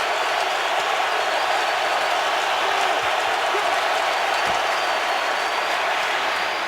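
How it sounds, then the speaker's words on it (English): A Seahawks home stadium crowd roars on a third-and-10 in an NFL game against the Colts, a steady wall of distant cheering and clapping with no pauses. "Now the crowd's into it on a 3rd and 10."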